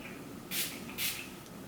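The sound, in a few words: setting spray sprayed onto eyeshadow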